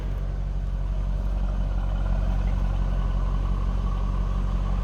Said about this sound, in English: what you'd expect a stock anniversary Corvette to sound like